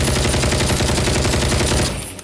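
Rapid cartoon gunfire, a loud continuous rattling burst of machine-gun shots that cuts off abruptly near the end.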